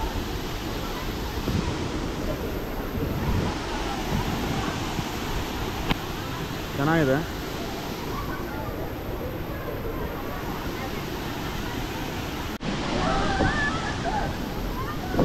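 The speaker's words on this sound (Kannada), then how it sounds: "ಸೊ ಇದೇ ಫಾಲ್ಸು" A waterfall in Karnataka, reached on a trek, gives a steady broad rushing roar throughout. A person briefly speaks over it.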